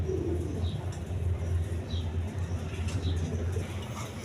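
Pakistani teddy pigeons cooing softly in a loft among other pigeons, a low steady murmur of repeated coos with faint chirps overhead, continuous and fairly close.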